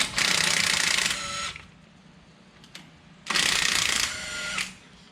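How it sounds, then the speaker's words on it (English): A small electric impact wrench rattles in two long bursts while removing brake caliper bolts on a GMC Sierra 1500, loud and close, with a quiet pause and a faint click between bursts and no speech. "we're going to go ahead and use a little electric impact"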